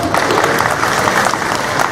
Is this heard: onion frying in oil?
no